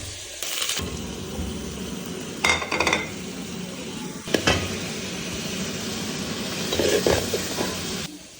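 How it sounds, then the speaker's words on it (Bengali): Spices sauté in a pan for red amaranth greens, giving a low continuous sizzle with a few bursts of scraping and clattering from the stirring. "মশলাটা বসিয়ে দিলাম রান্না করলাম লাল শাক খুদুরা শাক"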